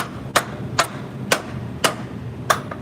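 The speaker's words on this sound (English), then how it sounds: "you always get you a little hammer and just sometimes you gotta tap it." Five sharp metallic taps of a small hammer seating springs into place, evenly spaced about half a second apart, close and distinct over a low background hum.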